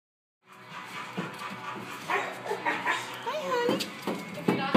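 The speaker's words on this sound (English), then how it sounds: "Sorry, with the other dog here." A dog whimpers and gives short barks and pants close by, mixed with other dog sounds and under ongoing human talk in a home setting.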